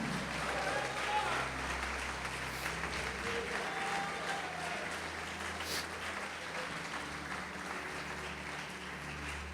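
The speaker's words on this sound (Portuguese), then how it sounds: "Pode aplaudir, glorificar" A church congregation applauding during a worship service, a steady wash of clapping from a large room that carries on under voices and crowd noise.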